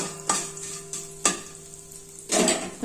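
Mustard seeds and cumin sizzle in hot oil for an okra tempering, a steady close frying hiss broken by a few sharp metallic clanks of a spoon against the pan.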